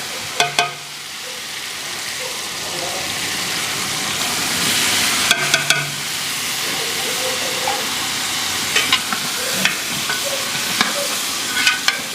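Ground masala sizzles and fries in a pot for mutton leg soup, a steady loud hiss broken by a few sharp scrapes and knocks of stirring.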